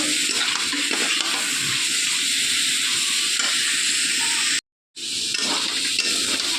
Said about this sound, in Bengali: তো লঙ্কাটা দিয়ে বেশ কিছুক্ষণ নেড়ে চেড়ে কষিয়ে নিয়েছি।